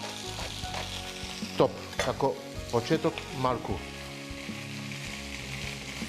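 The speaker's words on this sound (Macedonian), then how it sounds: "Ова почнува да се печи." Chopped young onion and sausage begin frying in oil in a small pot, giving a steady close sizzle with a few louder crackling bursts midway, plus brief sounds of stirring; a voice speaks a few words.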